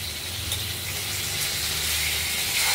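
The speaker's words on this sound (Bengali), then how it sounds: "মাছগুলো ভাজা হয়ে গেছে, আমরা তুলে নেবো একে একে।" Cut pieces of boal fish fry in hot oil with a dense, steady sizzle close by, holding constant and growing slightly louder toward the end.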